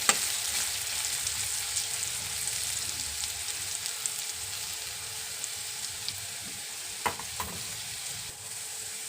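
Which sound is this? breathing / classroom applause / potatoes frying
potatoes frying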